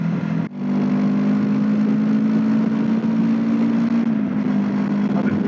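A Honda NX500 motorcycle engine drones at a steady, even pitch, a continuous close hum with a brief dip near the start and a slight change in tone later on.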